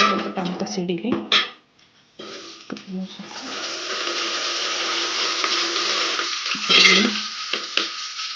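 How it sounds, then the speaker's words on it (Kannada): Ginger fries in a pan for a spicy millet pongal. Voices talk first, then a steady hissing sizzle takes over for several seconds with occasional stirring. "ಶುಂಠಿ ಚೆನ್ನಾಗಿ ಫ್ರೈ ಚೆನ್ನಾಗಿ ಫ್ರೈ ಆಗಲಿ"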